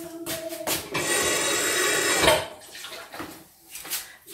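Blended strawberry mousse poured into small dessert containers, a close, wet gurgling pour lasting about a second and a half, with short clinks and handling noises before and after.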